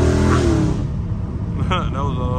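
A catless Dodge Charger Scat Pack's exhaust roars loudly as it accelerates, then eases into a lower rumble. Someone speaks briefly near the end.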